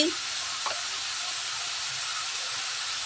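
Turmeric goes into hot oil in a pan, bringing a steady, close hiss and sizzle that holds evenly for a few seconds, with a single faint click near the start and no talking.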